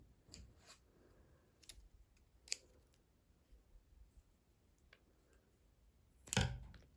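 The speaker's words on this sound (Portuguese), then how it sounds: "Faço uma correntinha e posso cortar o meu fio." Scissors snip crochet yarn in a few sharp, close clicks scattered across a quiet room, the loudest cut coming near the end.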